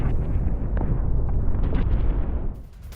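A Russian air strike hits a Ukrainian military training centre in Simonovka, Sumy, with a deep, rumbling explosive roar that sustains loudly for over two seconds before dropping off, heard from a distance.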